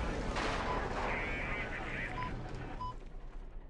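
Dense, rumbling bursts like distant explosions and rapid gunfire, simulated in a virtual-reality recovery program, roll through continuously, loud and chaotic, fading slightly toward the end.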